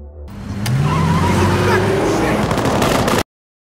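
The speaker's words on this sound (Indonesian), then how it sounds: "truk yang melaju dengan kecepatan tinggi" A truck speeds toward a military barricade in a film scene, its engine roaring loudly and continuously with rising tones and dense, rumbling noise throughout before cutting off abruptly.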